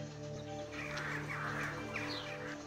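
Crows caw in a few rough, hoarse calls over a steady hum of ambient background in the video game EVE, fairly faint and with no speech.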